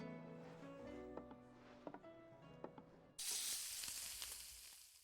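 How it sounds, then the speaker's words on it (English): Skyworm meat sizzles as it fries in Final Fantasy XVI, a faint crackle under a musical score that swells into a louder, steady hiss partway through. "Okay, I hear the sizzling in the back."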